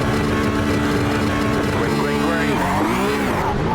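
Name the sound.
Porsche Cup 992 race car engines at Imola, iRacing video game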